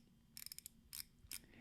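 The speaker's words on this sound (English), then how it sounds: "If you go counterclockwise, you get the safe clicking feel and noise" A YEDC Pig Coin fidget toy turned counterclockwise gives quiet, crisp ratchet clicks: a quick run of about five clicks, then two more spaced single clicks, all faint and close.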